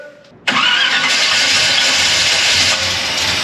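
After a brief whir, a classic Chevy car engine catches abruptly and settles into a loud, steady roar that idles on close by.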